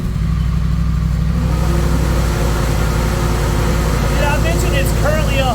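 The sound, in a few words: Honda Rebel 1100 motorcycle engine on dyno pull in 5th gear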